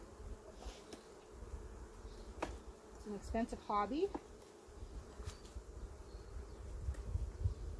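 Honey bees buzz around a hive, a low steady hum that continues under and between a man's speech.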